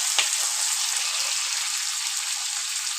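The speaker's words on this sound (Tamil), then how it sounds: "இப்போ கொஞ்சம் வெங்காயம் நல்லா வதங்கிட்டு இருக்குது." Onions and tomato sautéing in a pan, a close, even hissing sizzle with a brief stir near the start, no voices.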